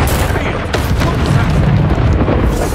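A Bombarda blasting spell explodes in Hogwarts Legacy, a loud, close booming blast with rumbling bursts and crackles spread across a couple of seconds.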